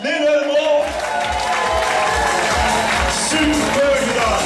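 An audience at a Dutch carnival prince ball, the Bollenmeppers in Casteren, breaks into steady applause with some cheering, filling the hall under a voice speaking.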